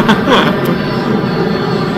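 A loud, roaring rush of airplane noise with a brief sweeping whine as the plane breaks apart and crashes in the video game The Forest.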